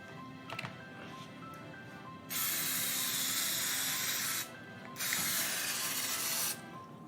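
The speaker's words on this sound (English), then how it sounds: "spray the pan for me, please" Pam cooking spray misted onto a pan in a home kitchen, two long steady hissing bursts of a couple of seconds each, close and fairly quiet, with faint background sounds before them.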